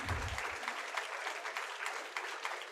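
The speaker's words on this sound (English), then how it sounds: "We actually deserve a huge round of applause for him." Applause in a meeting room for Colonel Vishal Anand: steady, fairly faint clapping that holds evenly for a few seconds after a brief low thump at the start.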